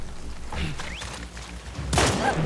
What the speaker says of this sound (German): gerade ein Schuss von oben